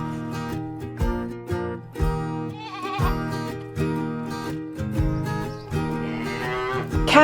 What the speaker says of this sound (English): There's a baby goat.